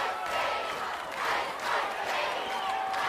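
Arena crowd at an American Gladiators semi-final event roaring and cheering for the gladiator Ice during a rope tug, a steady dense wall of voices swelling and dipping across the whole stretch.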